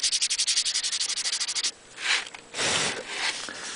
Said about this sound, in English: Once you got that sanded down, I used a rough grit because I wanted this to be fast.